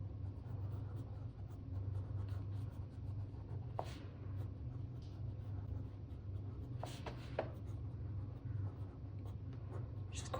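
Pencil scratching across watercolour paper in short faint strokes over a steady low hum, with a few brighter scrapes standing out near the middle and later on.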